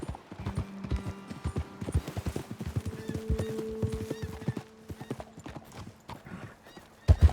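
Horses in the video game Red Dead Redemption 2 gallop with rapid, steady clip-clop hoofbeats, close and clear, under a sustained musical drone, ending with a sharper thump.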